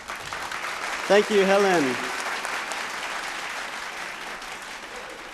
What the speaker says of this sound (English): Round of applause as she comes onto stage.